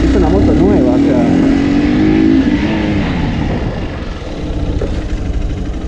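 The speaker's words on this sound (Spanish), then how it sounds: "Voy a probar una frenada un poco más brusca todavía para que se pueda notar" A new Hero Hunk 200R motorcycle brakes hard with ABS, the engine note dropping steadily as it slows without locking up, loud and close with a continuous drone and rough mechanical texture throughout.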